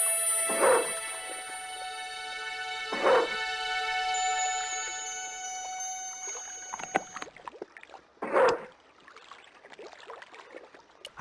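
Dog barking in Broken Sword 2, three loud, distinct barks spaced a few seconds apart over a steady tonal music bed, then quieter scattered noises.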